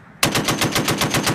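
Close and loud, a .50 caliber machine gun fired by Marines in Afghanistan lets off a sustained burst of rapid, evenly paced heavy shots that starts abruptly and continues throughout.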